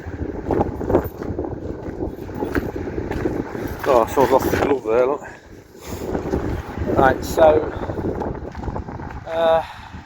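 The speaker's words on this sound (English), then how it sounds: "It is very windy here in December." Gusty December wind on the beach at Sutton on Sea buffets the microphone with low rumbling bursts while a person talks over it outdoors.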